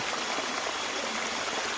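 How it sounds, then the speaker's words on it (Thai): A waterfall on the trail up Phu Kradueng, Loei, Thailand, pours steadily nearby, a soft, even splashing wash like a small waterfall or stream. "ทางขึ้นจะมีน้ำตกครับ"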